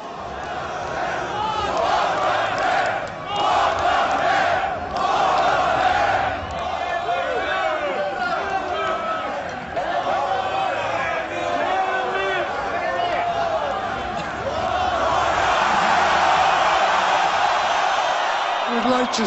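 A large concert crowd at a show roars and cheers continuously, dense yelling and whooping filling the space for the whole stretch, swelling louder toward the end.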